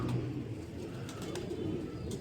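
Pigeons in a breeding loft give soft, low cooing that runs quietly in the background, with a brief louder sound at the very end.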